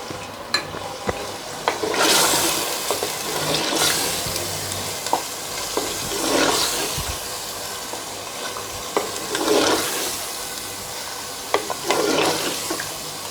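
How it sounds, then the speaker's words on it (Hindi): Boneless beef gosht frying in a karahi with green chillies, a steady sizzle with repeated stirring and scraping swells over it, close and fairly loud, with no talking. "चार से 5 मिनट हो गए मुझे गोश्त की बुनाई करते हुए"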